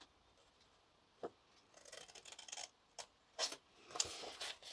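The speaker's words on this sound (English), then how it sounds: "So I'm going to cut along the top here." Scissors cutting along the top edge of a paper mini pocket letter, a few quiet snips and rasping slides spread through the clip, close and faint with no talking.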